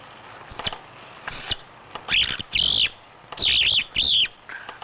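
A lark decoy whistle from Carpentras imitates a lark's call, giving a few faint chirps and then several loud, bright warbling trills in quick succession, close and clear.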